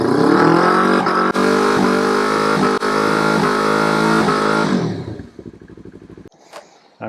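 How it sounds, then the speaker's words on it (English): A Yamaha R3 with an HM quickshifter revs hard and loud up close, with brief ignition-cut dips marking the upshift from sixth to seventh, then the engine note drops away and fades out. "You could hear the ignition cut off from 6, 7."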